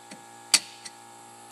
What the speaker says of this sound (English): And you can hear the pump reciprocating.